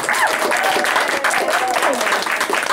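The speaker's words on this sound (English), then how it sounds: "Let's get a round of applause." Steady crowd applause at a one-year anniversary broadcast of Transitions Radio, dense and continuous throughout, with a voice cutting through over the clapping.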